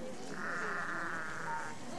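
Goats bleating in the livestock arena at the 1998 Royal Manx Agricultural Show, one sustained wavering bleat lasting over a second, fairly close, over a steady murmur of crowd and background noise.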